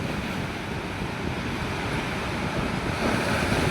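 Sea waves at high tide wash against a seawall in a steady, dense rush, with wind noise buffeting the microphone and the surge swelling slightly near the end.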